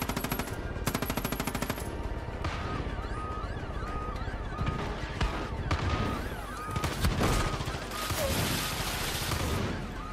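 Gunfire in the video game Far Cry 5, rapid machine-gun bursts and a dense fusillade of shots, loud and close, with a voice speaking at moments among the shooting.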